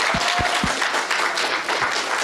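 Audience applause at a Curvy Girl Project event, a dense steady patter of many hands clapping throughout, with a few heavier low thumps near the start and a faint tonal whistle early on.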